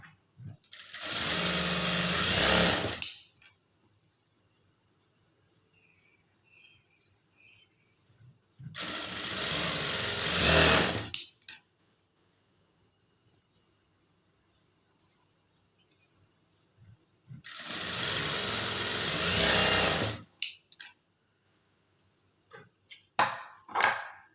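A sewing machine stitching a dart on a high-neck blouse runs in three separate bursts of steady whirring, each a few seconds long, with quiet pauses between them and faint talk.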